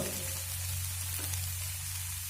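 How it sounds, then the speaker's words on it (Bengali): Pre-fried eggplant pieces go into a hot pan while cooking a drumstick-flower chorchori. A steady, fairly loud frying sizzle runs throughout, with no talking. "এবার দেখুন এখানে দিয়ে দেব আগে থেকে ভেজে রাখা বেগুনগুলো"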